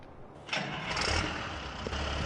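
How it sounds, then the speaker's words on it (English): Deutz Atlas tractor engine starting in a farming video game, a cranking burst at about half a second that catches into a steady, fairly loud idle running alone to the end. "Good tractor right here."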